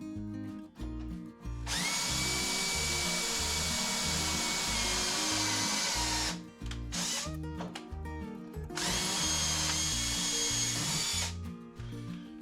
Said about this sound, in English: So we'll just try to countersink this.